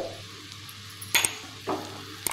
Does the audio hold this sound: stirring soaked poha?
yes